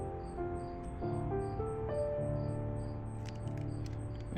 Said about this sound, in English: Hopefully the music's drowning out the crickets that are out in the yard right now.